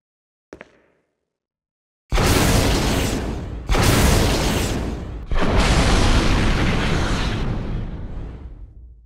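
Weapon fire in the video game Resident Evil REmake: after a brief click, three massive booming explosions erupt in succession, each loud, broadband and roaring with long rumbling decay, the last ringing out for several seconds with no talk.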